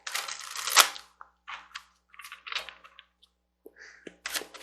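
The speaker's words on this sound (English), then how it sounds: "I'm going to shuffle these here because I see 2 storylines here" Tarot cards being shuffled by hand, giving a series of sharp, crisp riffling bursts and light card slaps in uneven clusters, close and fairly loud with quiet gaps between them and no talking.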